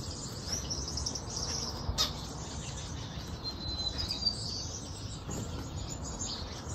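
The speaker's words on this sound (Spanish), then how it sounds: "Y esa es la pajarita," A small white pet bird chirps faintly and steadily in a home, its high thin calls running continuously over a soft background hiss.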